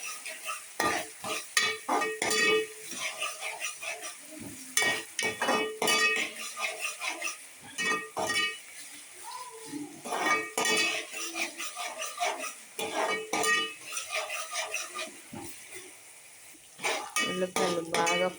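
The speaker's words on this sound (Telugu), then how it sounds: "ఉల్లిపాయ పచ్చిమిర్చి కరివేపాకు బాగా ఫ్రై చేసుకున్నానండి" Onion, green chilli and curry leaves frying in a pan, a steady sizzle broken up by repeated stirring and the scrape and clatter of a utensil against the pan throughout.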